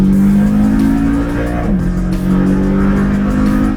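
A Porsche drives at a steady loud engine drone on an abandoned Nürburgring circuit, its tone dipping briefly midway and then holding strong, close to the microphone with no talk.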